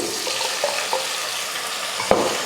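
Tomatoes sauté in a pan with a soft, steady sizzle, broken by a few faint stirring clicks and one sharper knock near the end.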